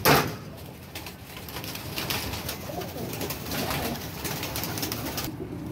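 Flying pigeons flutter and coo close by, a soft rolling cooing over repeated bursts of wing flapping, with rustling handling noise around them.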